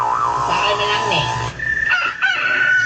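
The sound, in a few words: rooster crowing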